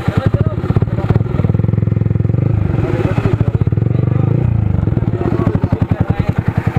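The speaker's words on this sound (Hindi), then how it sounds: "बाइक फंस गया" A motorcycle stuck on a rough path near a waterfall revs and labors loudly up close, its engine rising and falling in strained bursts with some clattering.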